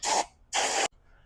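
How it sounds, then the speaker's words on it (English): Two sharp bursts of aerosol spray cleaner blasted into a carburetor, each about a third of a second, close and loud with a short gap between and a faint hiss trailing after. "I'm just going to give it a nice little shot, spray it out"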